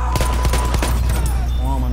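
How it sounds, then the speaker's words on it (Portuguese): Loud, rapid gunfire in the video game Battlefield 1: a quick string of sharp shots at close range, with a voice talking briefly near the end. "matei o cara que tava atirando em mim pelas costas"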